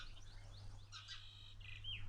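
Sparrows chirp in short, high tweets at a moderate distance, a few quick calls over a steady low hum, in a village.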